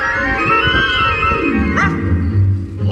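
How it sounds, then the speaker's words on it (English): A dog barks and yips close by, short excited calls with a brief whimpering note, loud over a busy background of ride audio and ambient noise at a Halloween-themed attraction. "Hey, look! A dog! It's a ghost dog!"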